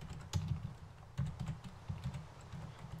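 Quiet, close clatter of fingers typing on a computer keyboard, in several short irregular bursts of keystrokes separated by brief pauses.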